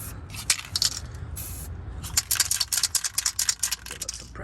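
A spray paint can is shaken hard by hand, its mixing ball rattling in quick bursts, pausing briefly after the first second and a half, then rattling steadily again, loud and close.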